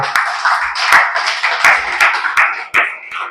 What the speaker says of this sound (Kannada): ಎಲ್ಲರೂ ಕೈ ಎತ್ತಿ ಚಪ್ಪಾಳೆ ತಟ್ಟಿ ದೇವರನ್ನ ಸ್ತುತಿಸೋಣ